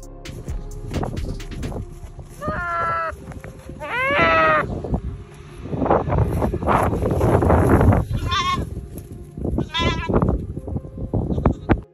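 A goat stuck upside down with its head trapped in a hole bleats loudly several times in quavering cries, amid rustling, scraping and thumping struggle noises close by.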